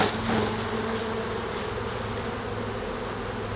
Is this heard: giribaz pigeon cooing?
no